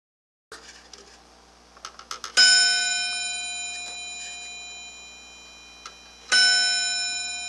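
A restored Sessions mantel clock striking, with a few small mechanical clicks and taps and then two bright metallic chimes whose tones ring on and slowly decay, loud and close with no talk.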